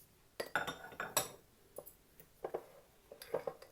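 A spoon clinks against a bowl while salad dressing of salt, black pepper, chaat masala and oil is stirred, giving scattered light taps and scrapes, close and fairly quiet.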